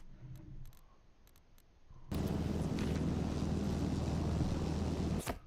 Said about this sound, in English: hello helicopter.